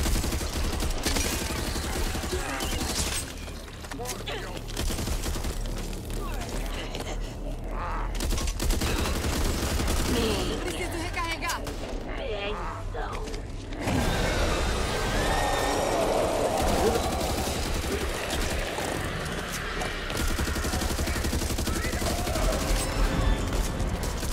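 Sustained automatic gunfire from the co-op zombie shooter Back 4 Blood, dense overlapping bursts and fusillades that run loud and nearly continuous for the whole stretch, with occasional voices underneath.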